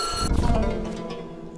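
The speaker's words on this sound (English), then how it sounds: "Let's continue to ignore the phone for now." Telephone ringing in the horror video game White Day on PS4, a steady electronic ring that stops abruptly early on, leaving a fading tone and faint background ambience.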